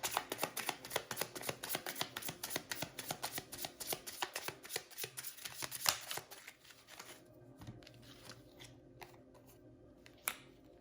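Tarot cards are riffled and shuffled close up in a rapid series of crisp papery flutters for about seven seconds, then a few sparse taps and slides of the deck in a quiet room.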